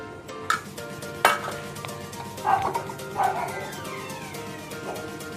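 Chicken pakora batter with garlic, ginger and coriander leaves is stirred in a bowl, making soft, squelching mixing sounds with a few louder scrapes, while a dog yips in the background.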